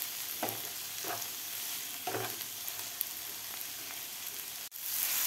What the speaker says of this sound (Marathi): साधारण 3 ते 4 मिनिट आपल्याला टोमॅटो कांद्याबरोबर व्यवस्थित भाजून घ्यायचं आहे